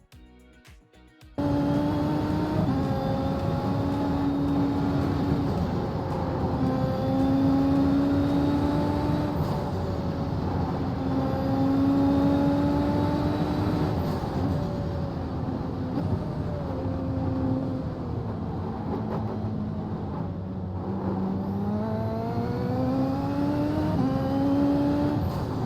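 Formula race car engine from a racing simulator game, a loud steady whine held almost throughout, rising and falling in pitch as it revs up and down through the gears, with no talk over it.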